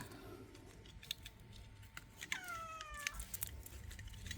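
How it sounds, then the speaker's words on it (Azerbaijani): A cat meows in a drawn-out, wavering cry, fairly close, over light background noise and a few soft clicks. "Ne ağlıyorsan ay pişik? Ağlama."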